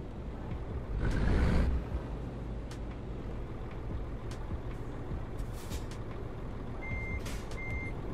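Reverse gear beeping from a truck in Euro Truck Simulator 2: two short electronic beeps sound near the end over a steady engine hum, after an earlier brief hiss-like burst.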